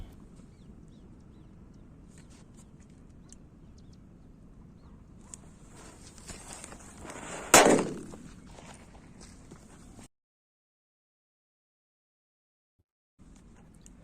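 A firecracker set off with a homemade portable electric lighter bursts once, sharp and loud, after a stretch of low background noise and soft shuffling, with a brief crackling tail before the sound cuts out.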